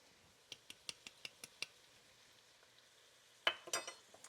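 Onions fry in a pot of chicken tortilla soup while being stirred. Sharp, evenly spaced spoon taps and clinks sit over a faint sizzle, followed by a louder clattering scrape near the end.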